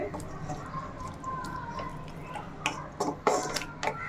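Chicken bonda filling with sautéed onions and a splash of water being stirred in a pan, giving wet squishing and scraping with scattered sharp clicks of the spoon, louder toward the end.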